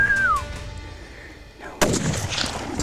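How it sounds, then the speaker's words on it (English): A single loud rifle shot cracks out during an ibex hunt in the mountains of central Spain, a sharp report with a trailing echo after a quieter stretch of faint outdoor sound. "Okay, Christian, very good shoot."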